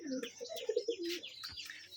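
Rajshahi giribaz pigeons at a pigeon farm give a run of soft, low cooing calls, several overlapping phrases close by, with faint chirps above.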